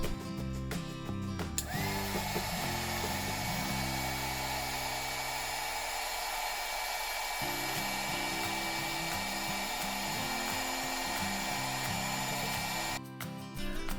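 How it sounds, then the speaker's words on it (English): Hot air gun blowing steadily to shrink heat-shrink tubing over twisted wire: a constant, close whooshing roar with a whining motor tone, running almost the whole time without pause and with no talking. "use hot air to shrink the shrink wrap"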